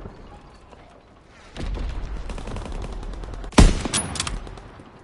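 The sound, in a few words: gunfire in video game Call of Duty WWII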